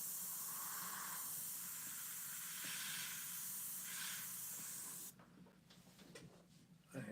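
A spray of paint hisses steadily for about five seconds as a painting of flames and firewood is lightened, pulsing slightly in strength, then cuts off, leaving quiet rustling and a small knock.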